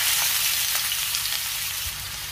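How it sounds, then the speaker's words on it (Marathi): Finely chopped garlic and onion fry in hot oil with a steady, dense sizzle, fairly close and continuous throughout, with no voices. "तेल गरम झाले, त्यामध्ये बारीक चिरलेला लसूण घालूया। लगेचच आपल्याला त्यामध्ये कांदा घालायचा आहे बारीक चिरलेला।"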